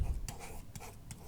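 Pen scratching out a chemical formula for calcium chloride, a few short soft strokes close by over faint room noise.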